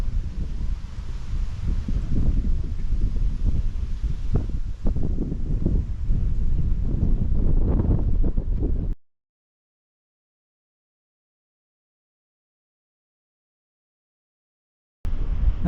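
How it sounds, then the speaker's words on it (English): Steady wind buffeting a microphone with low rumbling gusts for several seconds ahead of a storm at Rhossili Bay, Gower, then abrupt silence before the gusting briefly returns. "It's starting to get windy"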